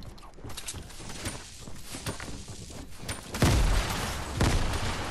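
Grenades go off in Fortnite, two heavy, close bursts landing about a second apart after a stretch of scattered crackling gunfire and thumps.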